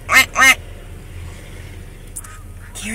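Two close, loud quacks from ducks, one of them white, ring out in quick succession at the start, followed by a quiet outdoor lull with a faint chirp near the end.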